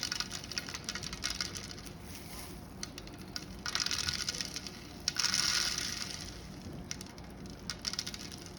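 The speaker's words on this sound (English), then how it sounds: "And she's gonna just start sprinkling." Sprinkles are scattered over candy apples in a light, faint patter of tiny granules landing, with a few denser bursts partway through and no voices.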